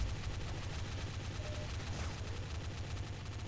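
Gunfire in a Garry's Mod Zombie Survival video game, a dense, rapid stream of shots rattling continuously at a steady, fairly quiet level.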